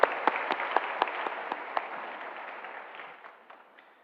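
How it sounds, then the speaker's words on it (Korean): Church congregation applauding during a Sunday service, a dense wash of clapping with sharp individual claps near the start that gradually thins and fades over four seconds. "뜨겁게 한번 박수하겠습니다"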